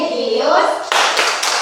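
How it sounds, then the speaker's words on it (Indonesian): Schoolchildren in a classroom perform the PPK clap routine together, a short burst of sharp unison claps following a stretch of chanted children's voices, close and fairly loud. "mari kita awali dengan melakukan secara bersama-sama tepuk PPK dan salam PPK"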